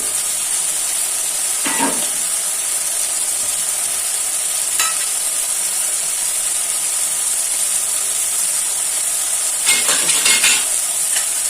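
Grated coconut tipped into a pan of sizzling tomato rice and stirred in, with a steady background hiss of frying and a few short scraping stirs of a spoon against the pan, no voices.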